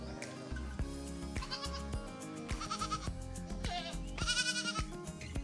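Several goats bleat repeatedly on a rice farm on Cat Ba Island, Vietnam, wavering cries overlapping one another at close range, rising louder toward the end with no talk over them.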